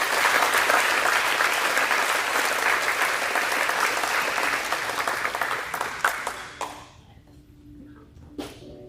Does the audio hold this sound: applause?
yes